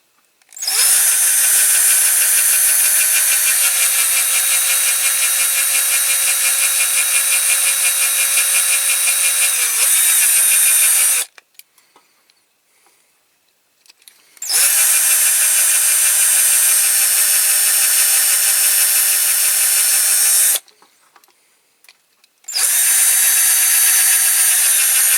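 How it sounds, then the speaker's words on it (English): A loud, steady power drill whines continuously for about ten seconds while drilling out rivets on a metal Corgi Major Ford car transporter model, stops, then runs again in two more long bursts separated by brief silences. "Now we've got these two rivets here under the fuel tanks to drill out."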